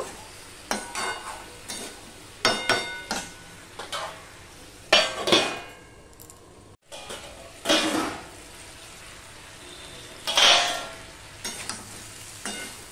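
Drumsticks, okra and potatoes with spices cook in a covered pan over low-to-medium heat, giving a soft sizzle broken by a series of sharp stirring scrapes and clinks of a utensil against the pan.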